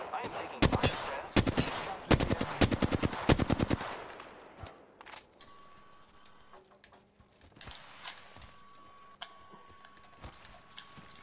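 Rapid bursts of automatic gunfire in the battle royale game Apex Legends, several quick volleys in the first seconds, then scattered distant shots and game effects beneath.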